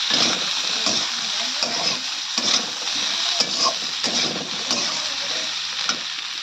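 Ginger-garlic paste and chili powder being stirred into hot oil in a frying pan while cooking a katla fish curry with taro, a continuous close sizzle broken by repeated scraping spoon strokes, no voices.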